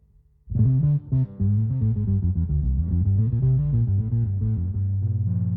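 A Gibson EB-0 bass guitar played through gritty diode distortion with the tone control wide open, a run of buzzy, saturated notes that ends on a sustained fuzzy tone, loud and up close.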